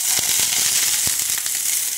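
Purple onions sizzle steadily in a hot pan for tomato sauce, a dense continuous frying hiss with a few sharp crackles and pops scattered through, close and fairly loud, no voices.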